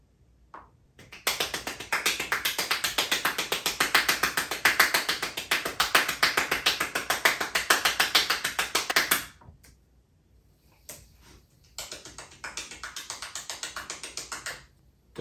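Rapid hand claps recorded into Logic music software, a dense string of sharp, evenly spaced hits for about eight seconds, a brief pause, then a shorter second run of claps, loud and close with no talking.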